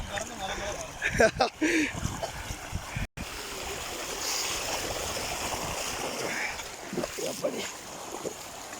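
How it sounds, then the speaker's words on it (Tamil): Rushing, splashing water overflows steadily from a rain-filled pond in Karuvanthaa throughout, with a brief gap near the middle; voices talk over it at the start. "இது உள்ள தண்ணி வெளியில் வரதை பார்க்கும்"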